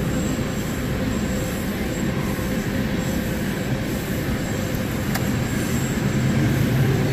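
A Union Pacific train rumbles past close by, a steady heavy roar of wheels on rails with a faint high squeal, continuous for the whole stretch.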